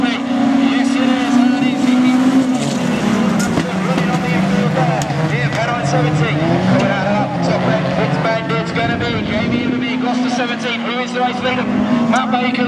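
Several race cars in a Class 6 autograss final at Nottingham drone loudly and continuously, engines rising and falling as they run through a turn, under steady excited commentary.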